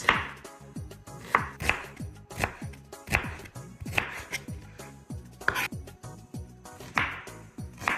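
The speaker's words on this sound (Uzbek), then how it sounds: "Endi piyozimizni parrak qilib to'g'rab olamiz." Onions being sliced into rings with a knife on a cutting board, a steady run of crisp, close chops in an even rhythm with brief pauses, no talking.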